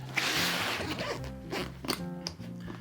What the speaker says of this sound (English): You unzip that sucker.